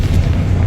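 In Hogwarts Legacy, the Confringo blasting spell gives a single deep, rumbling explosion that lasts the whole brief moment, loud and heavy in the low end.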